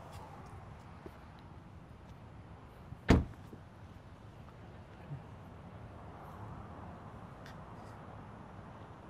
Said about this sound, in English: as we exit the car and close the door